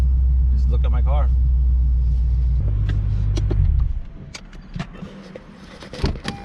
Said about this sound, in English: I'm just gonna park my car